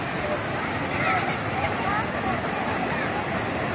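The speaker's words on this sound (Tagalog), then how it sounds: "Ito ang Tugunan Falls" Tugunan Falls in Agusan del Sur pours down with a steady, broad rushing roar that holds at an even level. A voice talks over the water.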